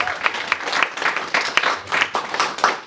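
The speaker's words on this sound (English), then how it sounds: "Can you please give them a round of applause?" A live audience at a local-artist storytelling performance applauds steadily, a dense patter of many hands clapping at close range for a few seconds with no talking.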